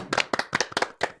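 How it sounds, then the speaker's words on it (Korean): A handful of people clap for a visiting professor at a talk on nanotechnology and displays, giving a brief, close burst of sharp, separate claps in an irregular rhythm. "고지연 교수님께 박수 드리겠습니다"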